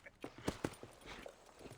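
Horse hooves clip-clop in the Western video game Red Dead Redemption, a few sharp, close steps in an uneven walking rhythm over faint background sound.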